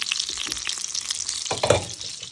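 Butter sizzling hard in a pan for lentil bulgur pilaf, a dense, close crackling hiss with a few spattering pops and a heavier burst of bubbling near the end.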